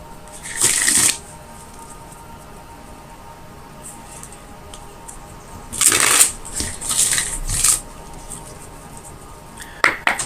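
Tarot cards being shuffled in three bursts of riffling and slapping, at about the first second, from six to eight seconds, and briefly near the end, with quiet pauses between; no one speaks.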